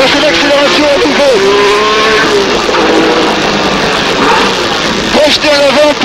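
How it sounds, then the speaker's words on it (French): Onboard sound of a 1976 Alpine-Renault A442 Turbo race car at Le Mans accelerating, with rising engine tones that climb and shift steadily under continuous French narration throughout. "Là aussi, il faut utiliser toute la surface du macadam du bitume, et c'est l'accélération à nouveau."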